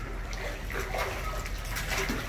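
Water rushes steadily under pressure from a jet where an animal swims, a continuous, dense, close splashing roar with no pauses or voices.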